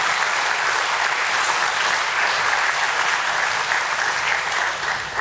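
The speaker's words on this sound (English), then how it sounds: "So I think it calls for a big applause to the BSE." A large audience at the 149th Foundation Day celebration of the BSE gives loud, dense applause that holds at an even level throughout.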